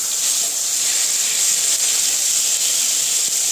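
Tomatoes for a spicy Bengali chutney sizzle in a hot pan as they are flipped, giving a steady loud hiss with faint crackles throughout, no voices.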